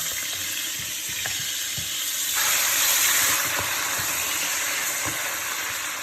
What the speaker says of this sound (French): j'ai mis de l'huile dans ma marmite. Donc là, je vais rajouter la viande.